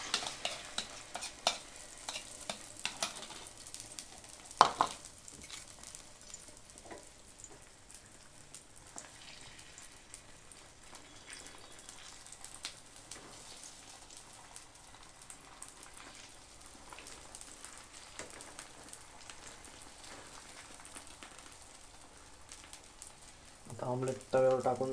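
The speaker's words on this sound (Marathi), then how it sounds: "आता हे आमलेट पूर्णपणे मिक्स करून आपण तव्यावर टाकत आहोत." Mixed omelette batter hitting a hot oiled tawa griddle, giving a steady, faint sizzle with scattered crackles and brief stirring scrapes throughout.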